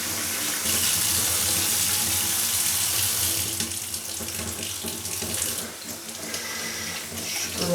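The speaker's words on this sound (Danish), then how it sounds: "Prøv så lunkenvand her, så skyller den her klud af." Lukewarm water runs hard from a kitchen sink tap as a cloth is rinsed under it, a loud close steady gush whose splashing shifts as the cloth moves through the stream, with no talking.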